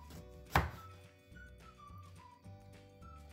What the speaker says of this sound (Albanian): E presim limonin në kubik